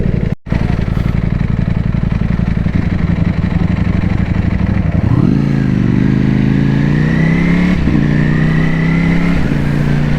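A superbike rides along a street in central London, its engine loud and close, holding a steady drone before revving up and shifting with rising pitch.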